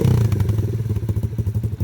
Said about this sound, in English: He's going to kick start it